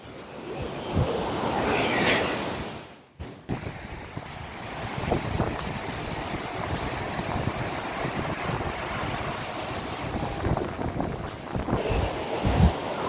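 Steady roar of sea waves breaking at Yarada Beach, Visakhapatnam, mixed with gusty wind buffeting the microphone, continuous and fairly loud with no voices.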